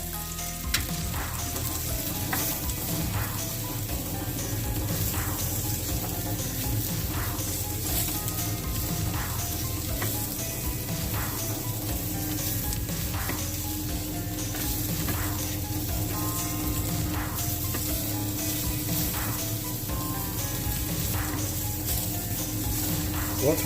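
Mushrooms sauté in a pan on a PK grill. A steady, loud sizzle of frying runs throughout, broken now and then by stirring clatter.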